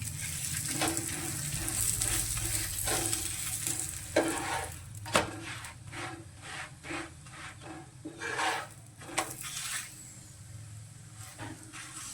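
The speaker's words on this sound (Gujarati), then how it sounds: "શેકી લેવાની છે. થોડું આપણે તેલ નાખીશું." Leftover roti pieces roast in a little oil in a pan, with a low sizzle beneath repeated scraping and rubbing strokes of a spatula at an uneven rhythm.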